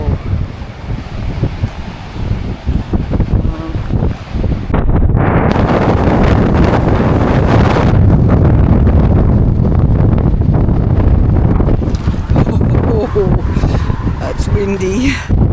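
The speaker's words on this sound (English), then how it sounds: "The wind is literally blowing me down this hill" Strong Atlantic wind on the sea cliffs at Kerry Cliffs buffets the microphone in loud, rough gusts that swell and roar throughout, with a person talking intermittently beneath the blustering.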